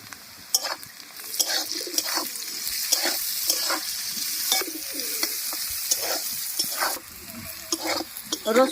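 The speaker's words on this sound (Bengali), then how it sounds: "কুচি দিয়ে আরও পাঁচ মিনিট ভালো করে ভেজে নিয়েছি" Chopped garlic fries with onion in a pan, a bright sizzle broken by repeated sharp spatula scrapes and clatters in an uneven rhythm, with faint background sounds.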